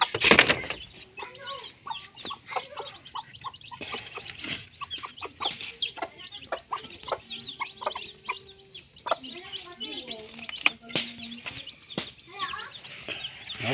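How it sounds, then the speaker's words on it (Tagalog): Chicks and chickens cluck and chirp repeatedly at close range, a busy mix of short calls with occasional faint talking in the background. "Cute ng mga sisiw."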